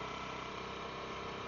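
A motorcycle engine runs steadily at a low, even idle-like rumble throughout, close and continuous with no voices.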